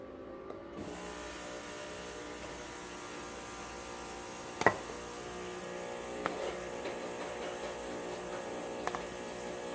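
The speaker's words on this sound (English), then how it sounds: "That's the coffee machine." A coffee machine running in a home kitchen, giving a steady low electric hum with a faint buzzing whine and a few soft clicks, quiet and continuous with no talk.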